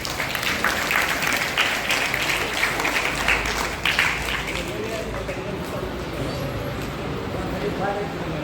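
Children clapping at a tuition centre's Pongal clothes-giving event, a busy crowd of claps mixed with voices and background bustle, fading into murmuring chatter after a few seconds.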